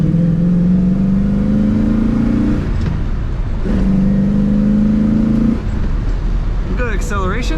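A 1966 Chevrolet Impala SS hardtop with a four-barrel carburetor and floor-mounted four-speed accelerating on the road. The engine note rises steadily through two long gear pulls, dropping between shifts, loud and close from inside the car.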